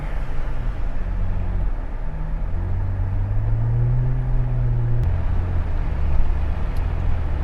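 A BMW 535i pushing through snow with wheels spinning under almost no throttle, a steady low engine drone inside the cabin that rises and falls as the tyres lose grip.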